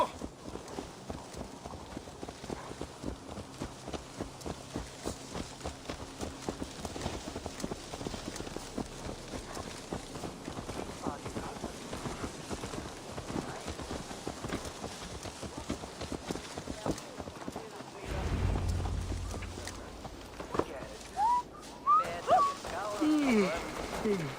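Horse hooves clip-clop steadily on the ground in the Assassin's Creed Valhalla video game, a quick even rhythm running through most of the stretch under game music and talk, then breaking into scattered thumps near the end.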